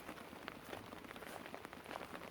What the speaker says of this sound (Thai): โอ้ฝนตก